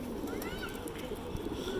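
A flock of about seventy pigeons on a rooftop coos softly and continuously under a steady background hum, with faint voices nearby.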